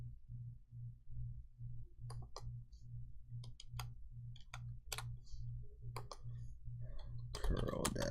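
Typing on a 2-in-1 keyboard with a built-in mouse, irregular clicks of keystrokes over a steady low pulsing hum, faint and close, with a brief louder burst near the end.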